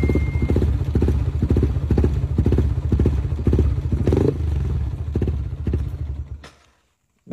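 A motorcycle fitted with a modified exhaust idles and revs close by, giving a rough, rhythmic pulsing rumble that lasts several seconds before the engine cuts off and falls silent.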